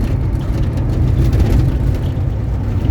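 A 1971 VW Beetle 1300 engine pulls hard under steady acceleration, a loud continuous low drone and whir filling the whole stretch with no break for a gear change.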